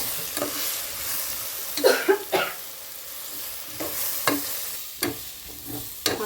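Chili powder masala for a chicken curry is stirred and fried in a pan: a steady sizzle runs throughout, broken by several sharp scrapes and clinks of a spoon against the pan, close and fairly loud.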